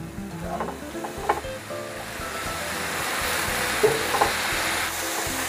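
Tofu filling with sugar and mushroom stock is stirred in a pan until the liquid cooks down, a steady sizzle with scraping stir strokes and a few sharp clicks, no talking.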